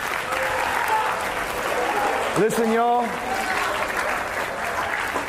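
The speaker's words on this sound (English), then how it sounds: "Can you give your teachers and your staff a big round of applause" An audience at a motivational speech applauds its teachers and staff with loud, sustained clapping as the speaker briefly talks over it.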